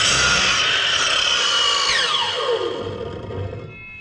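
A power saw cuts through a wooden picture frame up close, a loud steady whine that drops in pitch and fades as the blade spins down, no speech.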